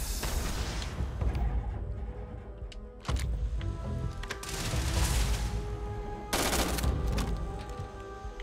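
Heavy bursts of automatic gunfire from the game Starfield ring out in loud volleys, broken by sharp cracks around the middle and near the end, with no voices.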